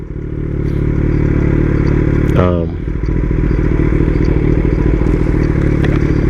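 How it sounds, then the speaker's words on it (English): Kawasaki ZX10 sport motorcycle ridden as a commuter, its engine droning loudly and steadily up close, with a brief rising rev or gear change midway and a rider's voice over it. "this is the third ZX10 that I've had as a commuter bike"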